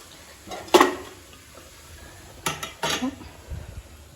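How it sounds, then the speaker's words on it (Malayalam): A frying pan for fish set down on a home stove, a single clanking metal knock followed by a couple of softer clatters and scrapes, close and fairly quiet, with no talking. "നമുക്ക് മീൻ പൊരിക്കാനുള്ള ചട്ടി വെക്കാം."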